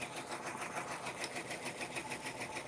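An embroidery machine stitching out a design on a kids jacket, a fast, even mechanical chatter of needle strokes, steady and close throughout with no voices.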